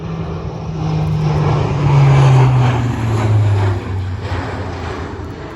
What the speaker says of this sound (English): Fat Albert's high-speed pass.